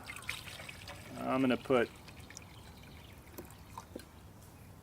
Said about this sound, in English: you take your water and fill it up